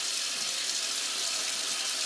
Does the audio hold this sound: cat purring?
no